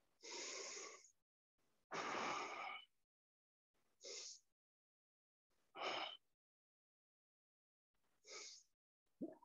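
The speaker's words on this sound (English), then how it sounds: "Keep breathing in, breathing out." Heavy, audible breaths during a power yoga session, a series of separate inhale and exhale bursts with pauses between, fairly close and alone with no talk.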